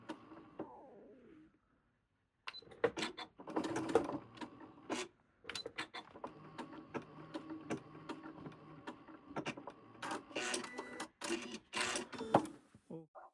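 A sewing machine works a short back stitch on a shirt side seam, giving intermittent quiet mechanical clatters and short bursts with pauses between them.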